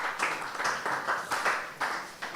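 An audience claps for panelists at a conversation event, with a steady, moderately faint patter of applause continuing throughout.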